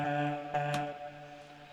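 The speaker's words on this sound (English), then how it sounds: "what you're hearing there is me shifting the formant down a bit to match the vibe of the tone" Sustained pitched vocal chop with its formant shifted down and pitch lowered, heard in a song mix, soft and fading over under two seconds with a brief bright accent midway.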